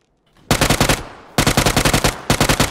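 A weak automatic gun in the video game PUBG fires three rapid bursts of about seven to eight loud, evenly spaced shots each, separated by short pauses, close and alone with no talking.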